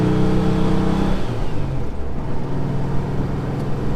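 A car engine idling rough with an intermittent electrical fault on one cylinder, a loud steady uneven rumble with wavering tone, heard close with no talk.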